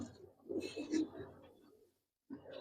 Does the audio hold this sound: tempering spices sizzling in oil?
no